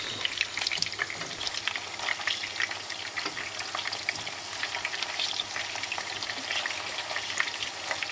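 Turkish meatballs (köfte) fry in a hot pan as they are turned over, giving a dense, continuous crackling sizzle with faint scrapes, steady and close throughout.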